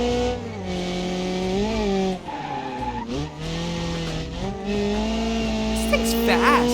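An inline-4 race car in the BeamNG driving game revs and shifts through gears with tire squeal and skidding, loud and close throughout, the engine note rising and dipping as it accelerates.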